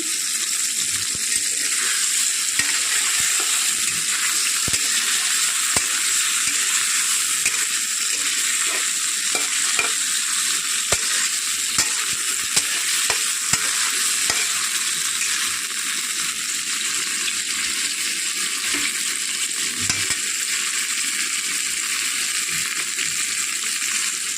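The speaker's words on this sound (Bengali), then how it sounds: "প্রথমে আমি তেল দিয়ে মাছগুলো ভালো করে ভেজে নেব।" Fish frying in oil in a pan makes a steady, close sizzling hiss with scattered small pops and crackles throughout.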